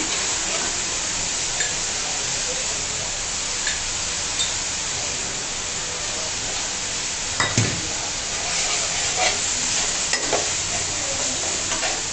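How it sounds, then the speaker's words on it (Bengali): Spice masala frying and being stirred in a pan for a fish dish, a steady close sizzle with occasional utensil scrapes and a louder clatter midway, no talk. "মশলাটাকে আমি ভালো করে একটু কষিয়ে নিচ্ছি মাছের জন্য।"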